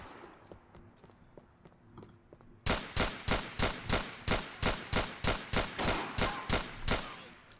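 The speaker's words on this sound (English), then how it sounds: "The fuck did that gunfire come from?" Gunfire in the video game GTA with the LCPDFR police mod: after a quiet, faintly ticking stretch, about fourteen loud, evenly spaced shots ring out in a rapid, steady rhythm.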